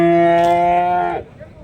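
A single loud, close, drawn-out moo from a young calf, around eight or nine months old, at the Chintamani calf market, trailing off into quiet market background.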